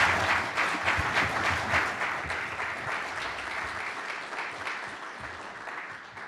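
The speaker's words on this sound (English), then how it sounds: "please give them a round of applause or something for them" An audience at an anniversary celebration applauds steadily for several seconds, a dense wash of clapping that gradually thins and softens toward the end.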